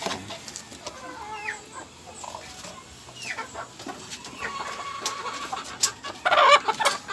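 A hen clucks in soft, scattered calls over a quiet outdoor background, with brief chirps and a louder rustling burst near the end.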